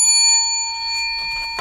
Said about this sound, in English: three bells.